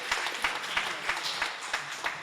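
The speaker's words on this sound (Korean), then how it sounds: "우리 한번 박수 한번 합시다." A church congregation claps together in a steady, rhythmic beat of about seven even claps, moderately loud in a room, with no talking.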